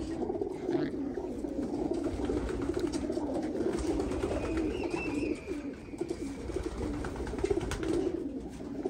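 Racing pigeons cooing in a loft during the moult, a close, steady chorus of low throaty coos repeating over one another, with a faint higher call partway through and no speech.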